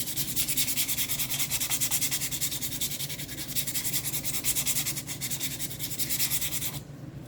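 Sandpaper rubbing lightly over a painted MDF coaster between coats, a close, steady rhythmic back-and-forth scratching that continues for the whole stretch, fairly soft, with no talk.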